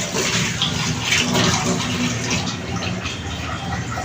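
Water pours steadily over six or seven pieces of tuna to soak them, a continuous close rushing splash like a running tap that holds an even level throughout, with no voices.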